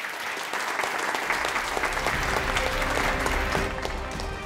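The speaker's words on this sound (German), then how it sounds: "Und jetzt einen fetten Applaus für unsere drei Kunden" An audience applauds loudly for three customers, a steady, dense clapping that fills the room from start to finish and trails off slightly at the end.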